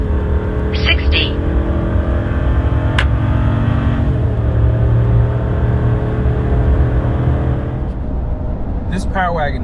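A gas RAM 2500 Power Wagon truck accelerates hard from 0 to 60, its engine roaring steadily loud with gear shifts changing the pitch, heard from inside the cab.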